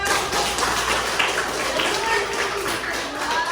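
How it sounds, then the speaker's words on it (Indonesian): Schoolchildren in a classroom applauding a classmate with the top score, continuous close, bright clapping from many hands with light voices underneath. "Tepuk tangan buat Mas Java."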